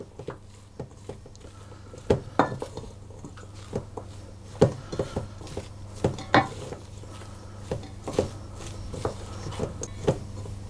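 Potato and cheese pasty filling being mixed in a bowl, with soft irregular knocks and scrapes of a utensil against the bowl repeating steadily at close range over a low background hum.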